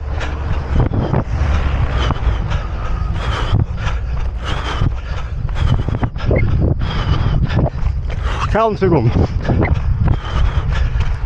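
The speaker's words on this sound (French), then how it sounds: "Le vent est dur." Strong gusting wind buffets the microphone in heavy, continuous roaring bursts around a runner during an interval session, with a voice speaking briefly through the noise.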